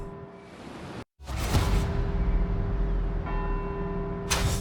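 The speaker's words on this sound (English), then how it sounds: "let's see if we can visit every bell tower in Edinburgh and get back here before they all stop ringing" Church bells ring out from Edinburgh bell towers in the Forza Horizon 4 racing game, sustained overlapping tolls that cut out briefly and then swell back in with a whooshing rush.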